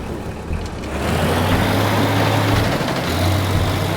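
A vehicle engine in the game Teardown runs steadily and loudly, a low droning hum that swells after the first second and holds with slight pitch shifts, close and alone with no talk.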